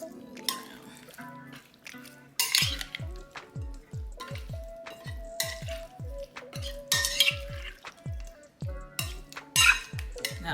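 Cubes of cheese tossed in Italian dressing marinade in a bowl give a run of quick, rhythmic wet clacks and scrapes, close and moderate in loudness, with no voices.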